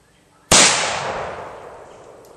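A single loud shot from a Ruger Old Army black powder revolver, a sharp crack followed by a long, fading rumble and echo, with no talking.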